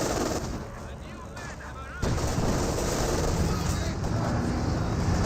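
Battle din from Company of Heroes 2: dense, continuous gunfire and rifle shots from PTRS anti-tank rifles, loud and sustained throughout with a brief dip before swelling again, mixed with speech.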